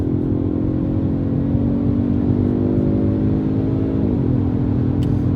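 A 2020 Genesis G70 with a 2.0 engine accelerates hard on a highway from 60 mph, its engine drone loud and steady inside the cabin, pitch climbing slowly before a brief dip near the end.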